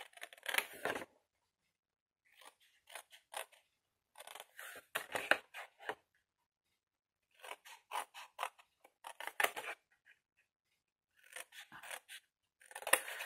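Scissors cutting straight through paper, a series of crisp snipping and slicing bursts in short groups separated by pauses, close and fairly quiet with no talking.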